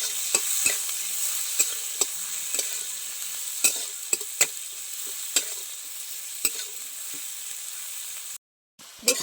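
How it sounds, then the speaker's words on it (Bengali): Chopped onions frying in oil in a wok for a village-style fish dish, with a bright continuous sizzle and repeated clacking stirs of a spatula at an uneven pace, close up, followed by a brief dropout near the end. "পেঁয়াজটা এবার আমি ভেজে নেব ভালো করে।"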